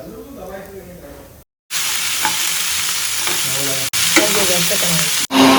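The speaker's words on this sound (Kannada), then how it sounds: "ಆ ಒಂದು ಈರುಳ್ಳಿನ ಹಾಕೋತೀನಿ ಕ್ಲೀನಾಗಿ ಫ್ರೈ ಮಾಡ್ಕೊತೀನಿ" Chopped onion for Mandya-style goat mutton saru fries in hot oil with a loud, continuous close sizzle and occasional stirring. The sound is broken by brief abrupt cuts.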